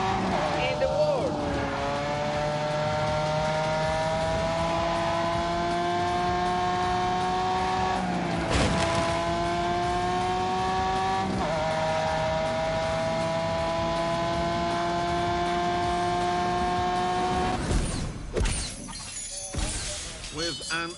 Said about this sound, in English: the fastest car boat in the world